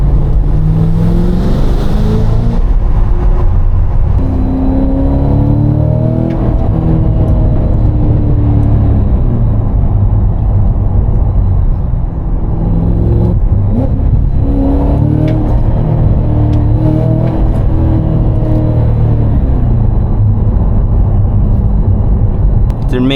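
An 800hp Cadillac CT5-V Blackwing cruises over bumpy back roads, its engine a steady low rumble with road noise throughout, while people talk over it.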